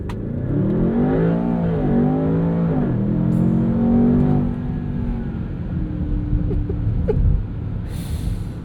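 A 2026 Land Rover Defender Octa with a 626 hp twin-turbo V8 accelerates hard, engine pitch climbing through gears with a brief dip at a shift, then settling into a lower steady drone, loud and heard from inside the cabin.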